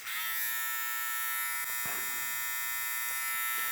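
The small electric motor of Stylecraft Reign or Saber II hair clippers hums and buzzes steadily and fairly quietly at close range, with a few faint clicks and rustles.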